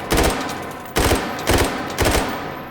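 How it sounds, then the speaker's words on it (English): AK-12 rifle in the VR shooter H3VR firing several rapid full-auto and burst strings, loud close bursts separated by brief pauses, with no one talking. "A little more full auto. And then that burst again."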